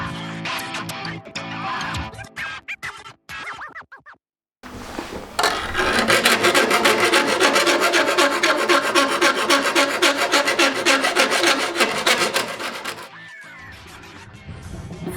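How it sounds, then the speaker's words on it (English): A jigsaw cuts through material clamped to a workbench during an off-road trailer water pump installation, a loud, rapid buzzing rasp that runs for about seven seconds after a few short starts and a pause. "Now I just need to get in here with my jigsaw."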